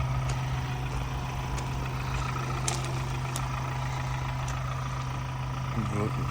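A 2021 Ford Transit L3H2 Trend van idles with a steady, low, even engine hum that continues unchanged throughout.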